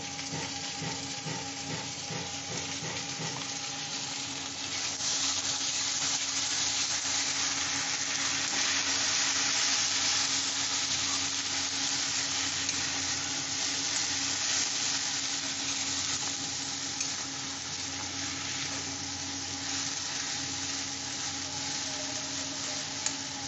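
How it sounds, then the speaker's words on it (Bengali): Onion paste fries with spices in a pan over medium heat, giving a steady, loud, broadband sizzle that holds evenly throughout with no talking. "আমি এই যে পেঁয়াজ দিয়ে দিচ্ছি, পেঁয়াজ বাটা 4 চামচ পেঁয়াজ বাটা দিয়ে দিচ্ছি।"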